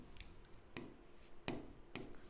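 Chalk or marker strokes on a classroom board during a maths lesson make four short, faint scratchy taps at uneven intervals, close and quiet with no talking.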